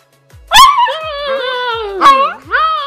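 A dog barks, whines and yips in sharp bursts, close and loud, with long drawn-out whimpering cries between short barks.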